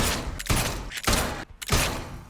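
Loud gunshots in the game Atomfall, three or four heavy booming blasts spaced about half a second apart, each with a dense crashing tail.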